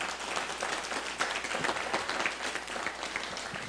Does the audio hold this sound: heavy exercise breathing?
no